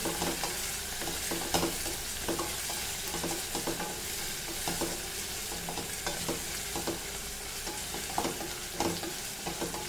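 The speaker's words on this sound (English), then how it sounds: "Fry this nicely." Goan coconut dal ingredients fry in a pan with a steady, close sizzle, punctuated by regular stirring scrapes and no voices.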